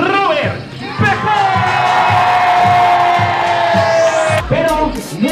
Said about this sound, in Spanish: un fuerte aplauso para Robert Pepe